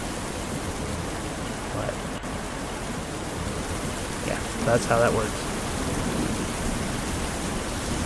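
Steady rain hissing in a self-developed video game, a continuous wash of falling water with someone briefly talking over it.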